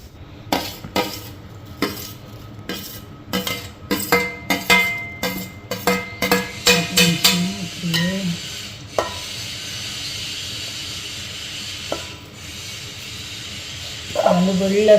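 Metal utensil scrapes and clinks rapidly against a pan of frying okra, growing busier before fading into a soft continuous sizzle, with a clatter near the end.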